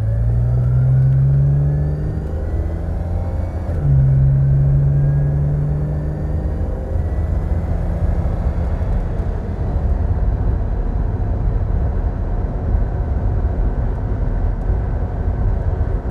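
A six-cylinder E6 engine in a wedge-shaped Ambassador or Princess car hums steadily while driving on the road to Winchester, a loud continuous low drone with smooth engine tone and no talking.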